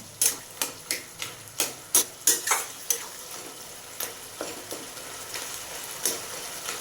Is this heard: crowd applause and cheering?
no